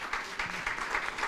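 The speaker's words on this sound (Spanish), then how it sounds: "para quien pido un fuerte aplauso" Applause from a law school lecture audience at Universidad Científica del Sur, a soft, fairly distant patter of clapping in rhythmic bursts, fairly quiet throughout with no talk over it.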